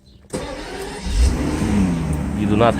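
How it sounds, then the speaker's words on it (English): A Mercedes S600 engine with repaired throttles cranks and catches about a third of a second in, then settles into a steady running hum that swells slightly, close by. "Now we're going to start the car"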